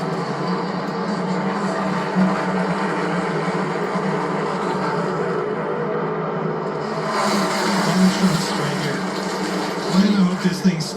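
A pack of 38 NASCAR Cup Series cars roars together at Atlanta as the green flag drops, engines droning and building as they accelerate, with a commentator's voice running over the noise.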